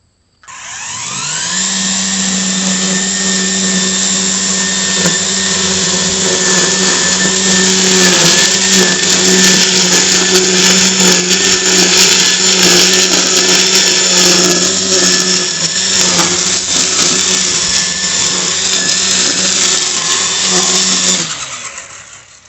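A string trimmer edging a lawn whines loud and steady at close range, its motor humming continuously for about twenty seconds before cutting off, with no voices over it.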